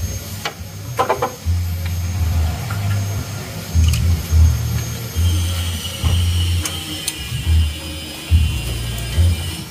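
A hand tool loosening the valve clearance adjuster on an Isuzu Panther engine during a tune-up: close, repeated metallic ratcheting clicks and grinding over a steady low mechanical rumble.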